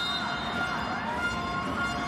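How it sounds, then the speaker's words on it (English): An arena siren wails during a men's volleyball Olympic qualifying match between Italy and Australia after an ace serve, a steady tonal blare held over the continuous roar of a crowd. "the sirens go off for the second ace serve in this fourth set to Australia"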